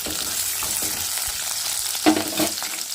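Tempering spices and onions frying in a pan for upma, a steady loud sizzle with crackling pops and a couple of sharper spatters near the end, with no talking.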